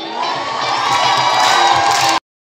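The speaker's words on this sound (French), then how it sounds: "Acclamation." A concert audience at the Folies Bergère cheers for the singer Jenifer, a loud, sustained roar of whoops and shouts that swells, then cuts off abruptly.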